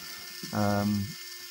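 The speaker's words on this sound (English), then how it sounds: "the red one is for the front landing legs. So if I hit that, they should go up." Electric motor on a Nooteboom model trailer whirs briefly as its front landing legs raise, a short mechanical hum rising and falling over about half a second, close and fairly loud.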